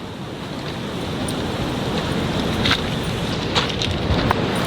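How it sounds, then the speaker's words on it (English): Ocean waves wash steadily onto a beach with Larson Creek Falls somewhere in the distance, a broad continuous surf roar with light wind buffeting the microphone and no voices. "I can even hear it from here despite the waves on the ocean."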